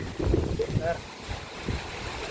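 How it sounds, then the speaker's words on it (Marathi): Strong wind buffets the microphone in low rumbling gusts by a river as rain arrives, with a brief voice and faint tonal sounds near the start. "बघा वारा सुद्धा सुटलाय एकदम जोरात"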